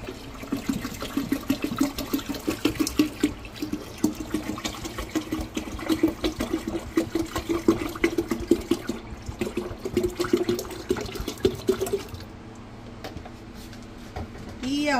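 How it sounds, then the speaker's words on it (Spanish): Water pours steadily into a container with a gurgling, splashing flow that runs for several seconds before tapering off. "Vamos a ponerle el resto de agua."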